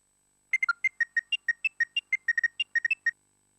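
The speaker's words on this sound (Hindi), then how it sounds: "तुलसी से बात करने का बहुत मन कर रहा है, जरा उसे फोन लगाइए ना।" A mobile phone rings in a home during a family scene, a quick run of bright electronic ringtone notes pulsing at a steady, fast rhythm for about three seconds, heard alone with no talk over it.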